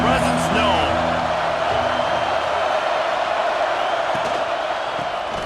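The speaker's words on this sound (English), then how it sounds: "This crowd ready to make its presence known." Stadium crowd roaring steadily in the EA Sports College Football 26 video game during the Iron Bowl, a dense continuous wash of noise with commentators talking over it throughout.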